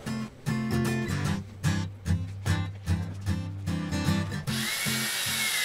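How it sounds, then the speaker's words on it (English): A drill mixes Stone Coat epoxy slowly for a curly redwood countertop, giving a steady, close motor whir with rhythmic pulses from the mixing paddle, then a brief smoother rush near the end. "I'm gonna mix it really slow so I don't introduce air to the epoxy."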